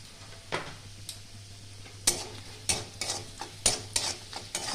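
Crushed spices frying with salt and turmeric in a pan, a soft sizzle broken by repeated scraping strokes of a spoon against the metal, close and fairly quiet.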